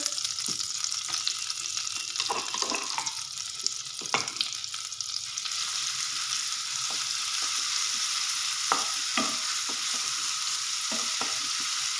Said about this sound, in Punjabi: ਇਹਦੇ ਵਿੱਚ ਪਾਵਾਂਗੀ ਮੈਂ ਅਦਰਕ ਲਸਣ ਦਾ ਪੇਸਟ